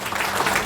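A seminar audience breaks into brief, hearty applause, a dense burst of many hands clapping at once, fairly loud and with no speech over it.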